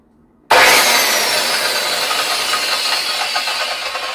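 A sudden loud, steady hiss of gas escaping from a live gas pipe being cut, bursting in after a moment of quiet and holding strong and close to the end.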